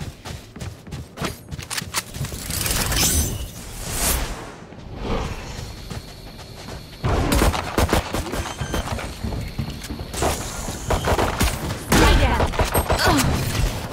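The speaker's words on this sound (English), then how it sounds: "Swarm grenade out." Gunfire and a swarm grenade go off in a Valorant match: fast bursts of shots and sharp blasts come in dense clusters, break off briefly in the middle, then start again loudly.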